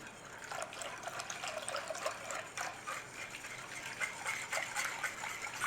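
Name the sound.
cream being poured into a pan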